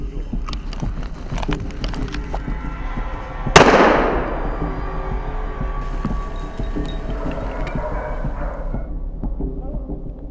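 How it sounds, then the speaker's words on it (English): A single loud gunshot during a driven wild boar hunt in woodland, a sharp crack with a long rolling echo that decays over several seconds against steady outdoor wind and background noise. "Several shots were fired near us, and the second boar was shot down by the hunter."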